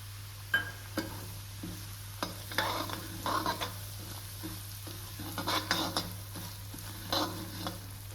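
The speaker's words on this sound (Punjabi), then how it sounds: "ਘਿਓ ਆਪਣਾ ਚੰਗੀ ਤਰ੍ਹਾਂ ਗਰਮ ਹੋ ਗਿਆ ਤੇ ਹੁਣ ਆਪਾਂ ਇੱਕ ਕੋਲੀ ਸੂਜੀ ਦੀ ਪਾਵਾਂਗੇ" Semolina stirred in hot ghee in a pan gives a soft, steady sizzle broken by repeated scraping strokes of a spoon against the pan, close and quiet, with no talk.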